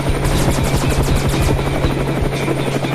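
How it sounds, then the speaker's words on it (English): A helicopter in a radio-drama chase scene, its rotor thumping in a fast, loud, regular beat with a steady engine drone underneath and no talk. "I don't know if I can get us away from that helicopter."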